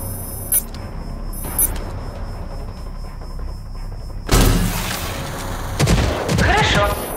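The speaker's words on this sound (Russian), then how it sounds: "Ракетомет фиксируется на цели и стреляет маленькими самонаводящимися ракетами." Smart rocket launcher in RAGE 2 letting off homing rockets, a couple of faint early pops followed by a louder burst of launches and blasts near the end, with no talk.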